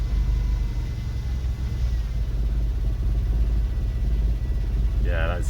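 Fiat Cinquecento 899cc engine idling rich with a constant deep rumble and drone, throttle eased off, a brief voice heard only at the very end.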